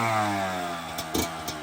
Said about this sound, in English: Bike's got a full FMF pipe, FMF turbo core exhaust.